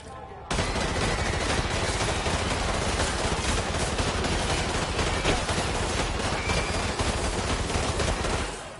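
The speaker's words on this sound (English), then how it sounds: "So we're at an airport and we're shooting it up" Airport mission gunfire in Call of Duty: Modern Warfare 2, a loud, sustained barrage of automatic weapons fire, rapid overlapping bursts continuing without pause for several seconds.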